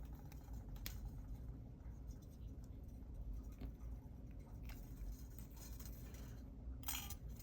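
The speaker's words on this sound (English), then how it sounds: "And you chop your wire." Jewelry wire is snipped with cutters, giving one or two faint, sharp clicks over a quiet, low background hum.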